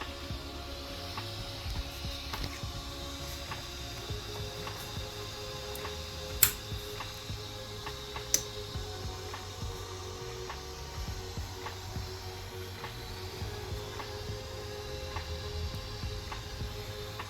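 The steering servo of a Losi Baja Rey 2.0 RC truck whirs and ticks quietly in repeated short mechanical bursts, with two sharper clicks standing out partway through.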